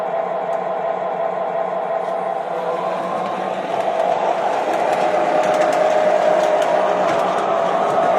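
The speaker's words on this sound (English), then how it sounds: "If we push down on the button, the train will start up again in reverse." An MTH O gauge 844 model locomotive running on track, with a loud, steady motor hum and rolling rumble throughout, rising a little partway through, and occasional clicks.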